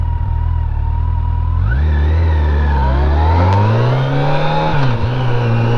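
Yamaha FJR1300 motorcycle engine, loud and close, idling steadily and then revving up with rising, wavering pitch before dipping and climbing again.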